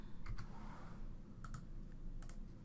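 Keys clicking on a computer keyboard while entering a label in design software, a few quick taps in short bursts separated by pauses, close and fairly quiet.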